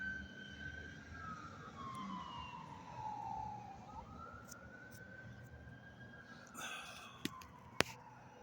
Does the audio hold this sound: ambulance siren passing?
yes